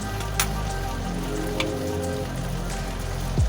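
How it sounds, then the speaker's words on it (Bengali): Chicken pieces frying in hot oil: a dense, steady crackling sizzle with scattered pops, close up and uninterrupted. "এবারে আমি চিকেনগুলো ফ্রাই করে তেলের মধ্যে চিকেন দিয়ে ফ্রাই করে করে তুলে নেব"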